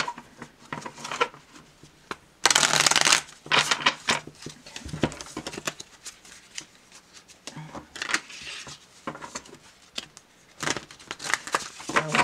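Worn, bendy cards riffle and flick in short, quiet bursts, with one louder shuffle partway through and scattered handling noises around it.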